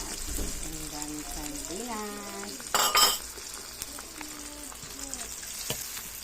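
Sardines being stirred with a utensil in a pan while cooking, with soft scraping and light sizzle, a louder clatter of metal near the middle, and a voice speaking over the top.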